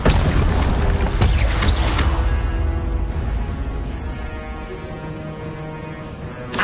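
An Incendio fire spell in the Hogwarts Legacy video game bursts with a loud booming whoosh, then the roar fades into a lingering ringing tail.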